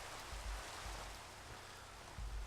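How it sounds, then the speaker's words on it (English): Steady rain falling in Minecraft at low elevation, an even hiss of drops with faint low thumps underneath. "it's got rain falling instead of snow"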